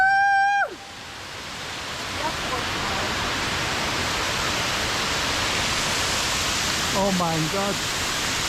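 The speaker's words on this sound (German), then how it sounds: "Das ist jetzt der größte Wasserfall, ne?" A large waterfall on the E5 Alpine crossing between Oberstdorf and Merano roars as a loud, steady, close wash of noise. A voice exclaims briefly at the start and talks again near the end.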